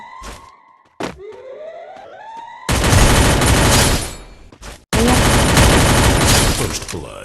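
Gunfire in the video game Free Fire: loud bursts of rapid automatic shots fill long stretches, broken by a brief pause, with a few sharp single thunks and game sounds before the firing starts.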